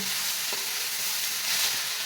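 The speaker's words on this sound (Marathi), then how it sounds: "आता ही सगळं दोन मिनिट भाजून घेऊया" Tomatoes and ginger fry in a pan with a steady, bright sizzle and a faint stir or two, no voices.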